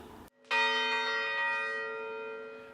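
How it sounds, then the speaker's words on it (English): A church bell rings in Salt Lake City for a vigil marking the Charleston church shooting, a single loud struck tone after a short pause, then a long shimmering hum that slowly decays with no voices. "More than a dozen people gathered to participate in the bell ringing."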